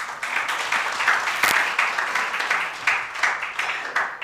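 Audience applause at a university inaugural address, a moderate, somewhat thin wash of clapping with a sharp knock partway through, heard from the hall at middling distance.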